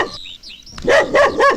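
A dog barks three times in quick succession, loud and close, after a brief moment of faint birdlike chirps.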